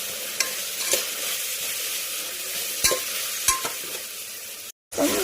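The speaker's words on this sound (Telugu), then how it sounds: "వేసుకొని కలుపుకొని" Potato pieces stirred into a frying pan for brinjal fenugreek curry, with a steady sizzle of hot oil and a few scraping spoon strokes, then a brief cut to silence near the end.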